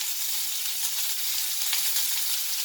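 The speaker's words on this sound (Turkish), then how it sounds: "Önce bu tarafının güzel bir şekilde kızarmasını bekleyeceğim." Steady, bright sizzling of Adana kebab frying in a hot pan, close and continuous, with no voices.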